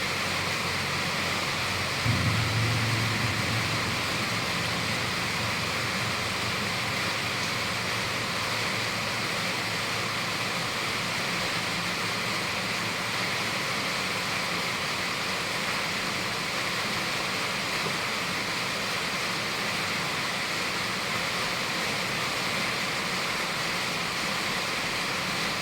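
Heavy rain falls in a constant, dense roar, with a low rumble of thunder early on and the downpour holding steady throughout.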